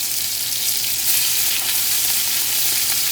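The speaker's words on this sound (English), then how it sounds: "we're gonna sear the pork loin" Pork loin searing in a very hot preheated cast iron skillet, giving a loud, continuous close-up sizzle that swells slightly midway, with no voices.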